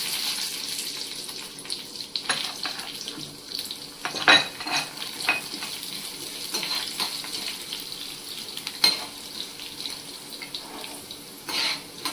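Coriander seeds fry in hot oil in a pan for a brinjal curry, giving a steady, close hiss and crackle with scattered sharper pops throughout, with no voices.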